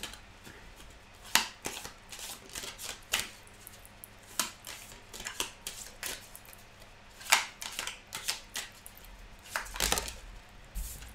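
Tarot cards are shuffled, picked and laid down in a quiet room, giving scattered soft slaps and flicks in irregular bursts, with no speech.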